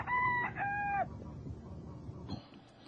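A rooster crows briefly up close, two quick strained calls, followed by quieter farmyard background with faint clucking from hens.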